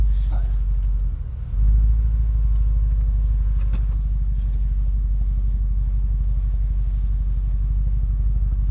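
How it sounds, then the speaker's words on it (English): Steady low engine rumble and road noise from a BMW car driving on the road, heard from inside the cabin; a brief dip near the start, then a constant drone throughout. "I think we'll take that for a drive."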